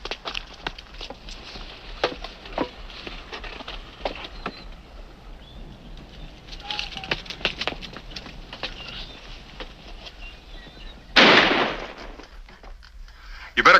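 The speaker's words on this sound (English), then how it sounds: "They've already started shooting at each other." Sporadic gunshots crack through a gun battle between two farmers, sharp reports scattered over several seconds with a heavy loud burst near the end, some distant and some close.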